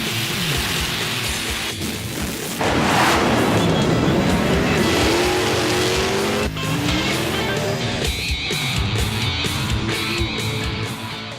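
Roaring drag racing car engines with revving and tire squeal, loud and continuous, rising and falling as the cars accelerate.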